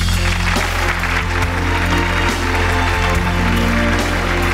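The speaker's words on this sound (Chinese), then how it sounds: "让我们掌声有请兰妮儿" A studio audience at a Chinese family talk show applauds as a guest is welcomed onstage. The clapping is dense, loud and steady throughout, with a faint musical tone underneath.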